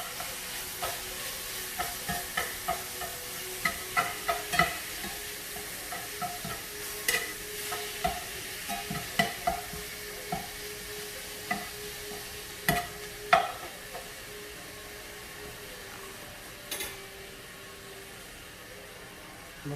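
Ground beef browning in a pan with a steady sizzle, broken up by a spatula whose scrapes and taps come in irregular bursts, close and clear, thinning out toward the end.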